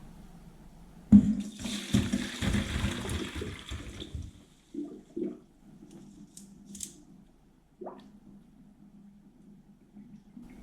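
Cooked cauliflower is tipped into a sieve, with a burst of pouring, splashing water for a few seconds followed by scattered softer drips and small knocks in a quiet kitchen.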